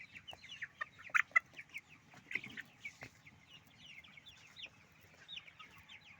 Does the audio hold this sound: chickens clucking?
yes